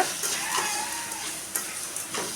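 Mango pieces fry in hot oil with turmeric and salt while being stirred in a pan, giving a steady close sizzle with occasional scraping stirs.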